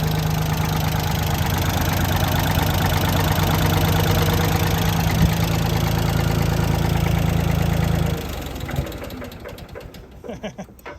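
A car engine idles loudly and steadily just after a cold start, with a knocking mechanical rumble, then sags to a weaker, uneven, faltering idle for the last few seconds.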